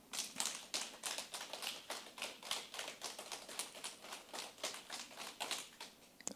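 A church congregation at a Bible lecture claps together in a steady, even rhythm for a health clapping exercise, about twenty sharp claps at a brisk pace, loud and crisp with no talking over them.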